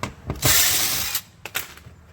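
A tool backs out 7 mm bolts from the door panel of a 2014 Chevy Camaro during a mirror replacement, giving short, close ratcheting and whirring bursts with brief gaps between them.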